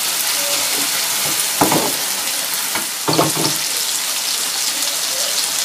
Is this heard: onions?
yes